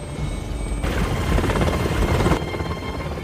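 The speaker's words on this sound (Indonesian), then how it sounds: "dibawa pergi dengan menggunakan sebuah helikopter" Loud rotor noise roars and churns close by, a thick, rushing mechanical drone that swells briefly in the middle before settling.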